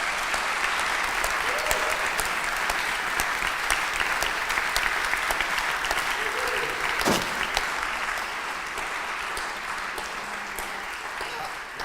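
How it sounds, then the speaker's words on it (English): An audience at an evening talk gives a long, sustained round of applause: dense, loud, even clapping that fades slightly toward the end. "Let's give Rebecca a round of applause."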